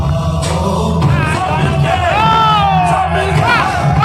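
Crowd at a company event for Mi Lifestyle Marketing Global cheering and clapping loudly and steadily, with whoops and shouts over dense babble, while a voice rises above it.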